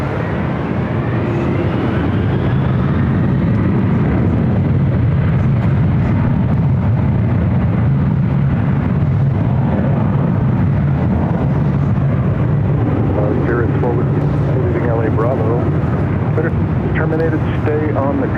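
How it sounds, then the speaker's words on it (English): A Boeing 767-300ER bound for JFK powers down the runway at LAX, a loud, continuous broadband jet roar with a rising engine whine, rumbling steadily throughout and blended with wind buffeting and indistinct voices. "this flight heading to JFK, 767-300ER"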